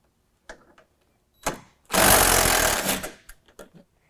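An 8 mm bolt being removed from a Ford F-150 with a power tool, one loud whirring burst of about a second, close up, with brief clicks and knocks before and after.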